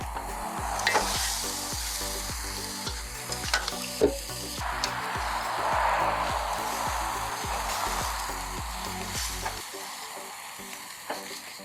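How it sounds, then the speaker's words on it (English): Jerk turkey on an outdoor grill gives a steady, loud sizzle and crackle with occasional pops and scraping clanks, set against a busy street with people passing. "Now the grill is ready and it's been waiting for the turkey, and I'm gonna add it onto the grill."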